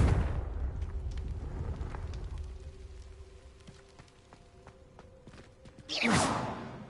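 A Confringo fire spell cast in the Hogwarts Legacy video game: a loud whooshing burst near the end, rising over a low rumbling game soundscape.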